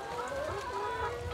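Hens scratching and dust bathing cluck and murmur in a steady, overlapping chorus, close and moderately loud, with continuous low rustling beneath and no talk.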